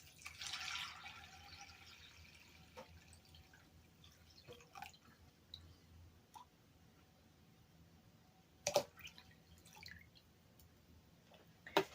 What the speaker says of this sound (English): Pour my water in.